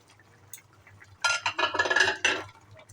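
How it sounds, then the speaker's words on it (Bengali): Fried katla fish pieces go into boiling curd gravy: after a quiet start, a close cluster of clinks, clatters and wet splashes lasts just over a second, then settles. "এখন দিয়ে দিব ভেজে রাখা মাছ"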